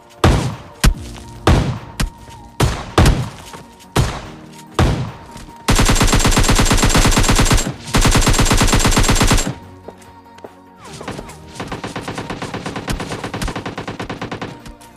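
Gunfire from the PUBG Mobile Lite video game: a string of sharp single shots, then long, loud bursts of rapid automatic fire, followed by a quieter stretch of lighter, steady shooting, with no voices.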